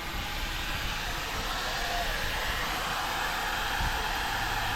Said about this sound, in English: His Jeep, he just airs down so quick and easy.